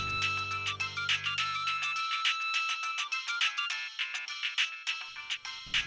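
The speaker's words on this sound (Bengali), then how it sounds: "এই সময়ত যে কোনে ফোন কৰিলে" A mobile phone ringtone plays a bright, repeating electronic melody of short tonal notes, steady and fairly loud, with no voices over it.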